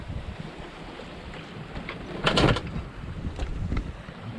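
A sailboat rocks at sea on a light-wind passage from Carriacou to Prickly Bay, Grenada. Steady wind and water wash run throughout, with a louder whooshing surge midway and a few brief creaks and knocks.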